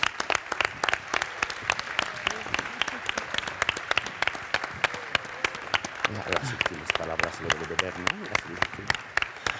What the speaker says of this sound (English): I ask you to give a big applause to the person behind this fantastic event